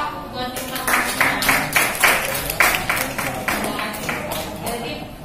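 An indoor audience claps at a community training event for prospective catfish farmers in Jatimakmur, a burst of scattered hand claps that swells and then thins out. Talk and crowd murmur run beneath the clapping.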